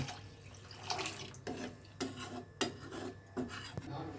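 Water is poured into a metal pot of rice for mutton biryani up close, splashing along with scraping and light clinks of metal.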